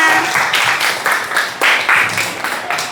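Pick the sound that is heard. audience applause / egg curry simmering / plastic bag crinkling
audience applause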